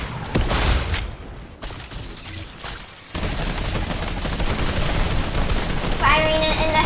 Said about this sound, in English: Firing it in the head.